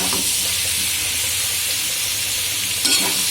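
Soybean chunks fry with spices in oil in a home kitchen pan, giving a steady loud sizzle and hiss with scraping stir strokes throughout and a brief louder scrape near the end, close by, with no talk.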